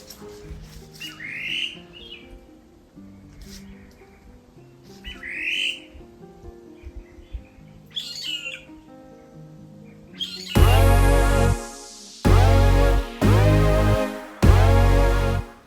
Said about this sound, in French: il faudra être silencieux pour pouvoir entendre des espèces d'oiseaux chanter, tels que le merle-pays